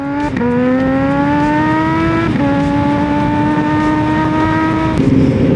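A turbocharged Kawasaki ZH2 motorcycle engine revs hard and loud, its pitch climbing steadily across three long pulls separated by brief dips as it shifts up, with no talk over it.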